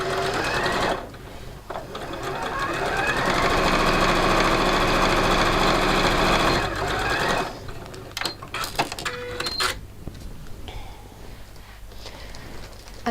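A sewing machine stitches a seam with a 1.5 cm allowance in a steady, fast, close mechanical whir for about six seconds. It then slows into intermittent clicks and handling noises.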